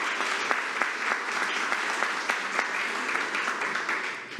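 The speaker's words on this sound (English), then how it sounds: "a big round of applause" Audience applause at a school board meeting honouring high school band directors: sustained, fairly distant clapping with a few louder individual claps throughout.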